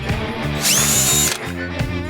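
A power drill whines up loudly for about half a second over a low mechanical rattle, then drops back to a rumbling hum, drilling holes for paintless dent repair.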